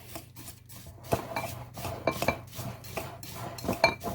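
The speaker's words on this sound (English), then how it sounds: "So we're going to take this knife. We're just going to mix it all up." A knife scrapes and clinks against a dish while a spicy oyster and mushroom casserole is mixed by hand, with irregular metallic taps and scraping strokes, close and fairly loud, without speech.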